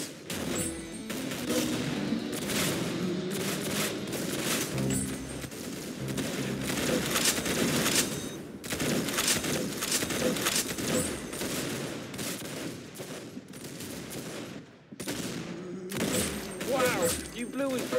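Video game gunfire fills the mix with dense, continuous volleys of shots that stay loud and close throughout, with a few brief gaps, while voices speak over the shooting.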